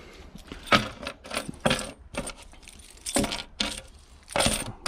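A large bunch of keys for a camper trailer's locks and doors jangles in several sharp metallic bursts, close and clear, with quiet gaps between shakes.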